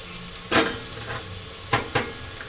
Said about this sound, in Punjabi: ਭੁੱਜ ਗਿਆ ਆਪਣਾ ਮਸਾਲਾ ਹੋ ਗਿਆ ਲਾਲ ਭੁੱਜ ਕੇ